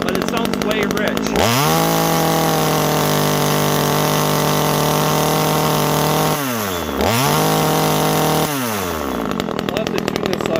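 A TimberPro 25cc top-handle chainsaw, stored for three years, idles rich after starting: a steady buzzing two-stroke drone, close and loud, with brief throttle dips and recoveries midway and near the end.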